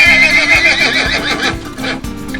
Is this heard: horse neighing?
yes